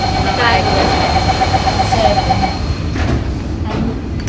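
An MRT train running near Beauty World station in Singapore gives a steady rail rumble with a repeating beeping tone early on, while people talk over it.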